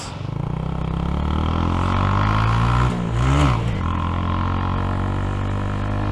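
Honda Grom motorcycle being ridden, its engine droning loud and close with harmonic tones climbing through acceleration, a brief dip at a gear change, then pulling up again.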